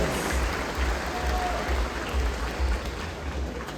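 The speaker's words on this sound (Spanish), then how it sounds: "Fuerte los aplausos para estos niños y jóvenes." Steady applause from a festival crowd at an outdoor calenda celebration for a band of local children and young people, a dense, even patter of clapping that holds for the whole stretch.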